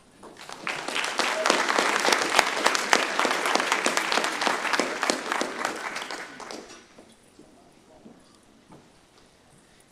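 A lecture-hall audience applauds warmly to welcome Dr. Ron Wald at a clinical meeting, with steady dense clapping for about six seconds before it tapers off into quiet.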